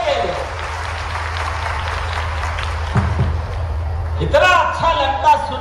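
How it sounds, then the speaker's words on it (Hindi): Audience at a large outdoor public rally in Khandwa applauding, a broad continuous clatter of clapping, fairly loud, with a voice over a loudspeaker breaking in near the end. "जोरदार ताली बजाओ अपने उस बच्चे के लिए"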